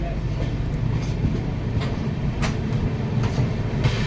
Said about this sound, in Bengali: হাওড়া স্টেশন থেকে ট্রেনের ডিপার্চার হয়ে গেছে